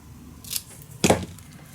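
Scissors cut a paper belly band shorter for a scrapbook mini album, two quick crisp snips, the second louder, close up against a quiet room.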